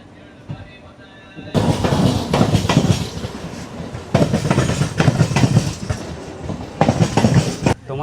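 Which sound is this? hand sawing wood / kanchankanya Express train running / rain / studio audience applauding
kanchankanya Express train running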